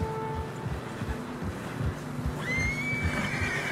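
A horse whinnies in the video game Red Dead Redemption 2 on a narrow trail through fresh snow. The short neigh rises over rhythmic hoof thuds, with a wind-like wash of ambience behind it.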